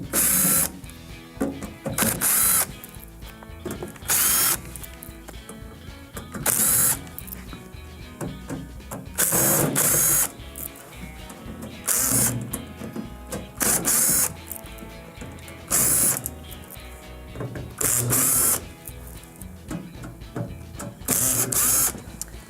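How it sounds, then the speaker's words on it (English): Screws being backed out of the rear panel of a Whirlpool microwave, with repeated ratcheting clicks in short bursts and mechanical whirring throughout, close and fairly loud. "we're going to be removing the 9 screws on the very back. These screws are all number 2 Phillips"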